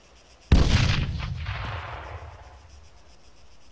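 A weak video game gun fires once in a team kill match. It gives a single loud, sharp blast with a long rumbling tail that fades over about three seconds, and no one speaks over it.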